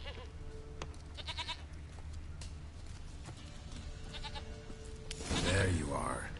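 A goat in a fantasy video game bleats a few times in short, wavering calls amid ambient game sound, with a louder burst near the end as voices talk nearby.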